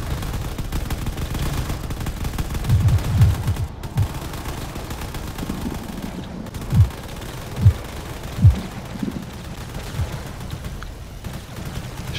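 Heavy cannon shells from a battleship in a space combat video game: several deep, booming thumps, a cluster around three seconds, then three spaced blasts a bit under a second apart, over a constant low rumble.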